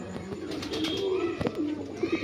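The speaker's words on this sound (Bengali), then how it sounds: "অজস্র পায়রার, প্রচুর পায়রা রয়েছে এখানে দেখুন" Many pigeons cooing in a garden park, soft repeated low coos from several birds near and overlapping, with faint chirps around them.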